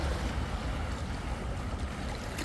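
Strong ocean waves surge in a steady, loud rushing wash with no break, heavy low rumble throughout and no voices.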